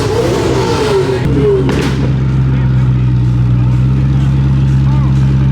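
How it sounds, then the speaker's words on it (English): A Hennessy Venom F5 engine revs hard and then settles into a loud, steady drone, with crowd noise in the background at a car event. "a Hennessy Venom F5 is revving out of control"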